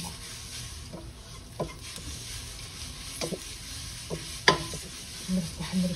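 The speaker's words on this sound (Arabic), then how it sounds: "نحمر الشعرية." Vermicelli toasts in a pan while a utensil stirs it, with scattered scrapes and clicks over a low, steady sizzle, heard up close with no talking.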